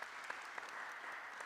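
Brief, soft applause from an audience at a university PhD event at Gdansk Tech, a steady wash of distant clapping lasting just over a second.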